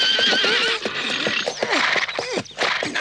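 Horse neighing loudly and close, a series of shrill, wavering whinnies with brief breaks between them, alone with no talk, in a knight's tournament setting.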